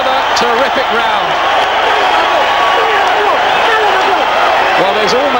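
A boxing arena crowd roars continuously during the Barrera vs Morales fight, a loud, dense wall of cheering and shouting with a commentator's voice talking over it.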